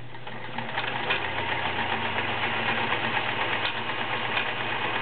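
A vintage 1941 Kenmore convertible sewing machine stitches a wide zigzag, giving a steady, close mechanical whirring hum with a fast rhythmic chatter running continuously throughout.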